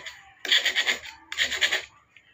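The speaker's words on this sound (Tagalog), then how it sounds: "Gagamit ako ng cutter na mahaba." A long cutter blade slices through a rubber bushing on plywood in two short, scratchy, rasping strokes, each a quick burst of rubbing with a brief pause between, close and fairly quiet.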